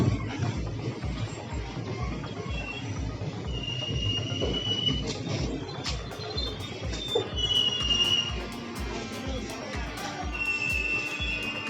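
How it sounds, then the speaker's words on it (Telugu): A Kazipet–Dadar passenger train pulling into Karimnagar railway station: a steady rolling rumble with regular low thumps and occasional high wheel squeals, and faint voices in the background. "కరీంనగర్ రైల్వే స్టేషన్లో కాజీపేట దాదర్ ట్రైన్ అయితే ఇప్పుడు ఆగింది."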